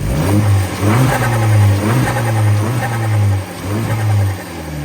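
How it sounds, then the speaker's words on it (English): Close, loud revving from an Abarth 500's 1.4 liter turbo engine with a fluttering intake, the engine note rising and dropping in repeated pulses with a chattering whoosh on each lift. "the intake makes this sound"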